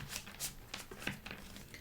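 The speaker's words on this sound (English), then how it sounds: "I'm going to be live shuffling for you." Tarot cards are shuffled by hand at close range, quiet riffling and soft slaps in a few brief bursts, with no talking.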